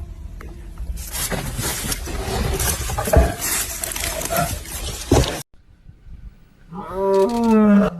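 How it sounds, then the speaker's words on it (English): A massive lion in deep woods lets out a long, rumbling roar close by for several seconds beside a moving vehicle, then after a short pause gives a further loud, drawn-out roaring call. "a bone-chilling roar as a massive lion stalks alongside a moving vehicle"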